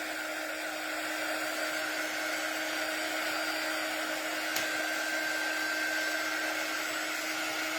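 A hair dryer blows steadily on a craft piece, a continuous close whooshing hum with a steady tone that does not change for the full length, and no voices.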